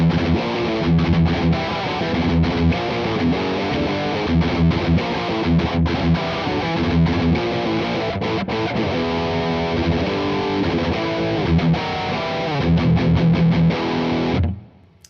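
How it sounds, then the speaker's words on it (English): Heavily distorted electric guitar through a Boss Metal Zone pedal into a Roland Jazz Chorus amp plays steady chugging riffs, loud and thick, continuous until it cuts off at the end. "Let's boost the distortion."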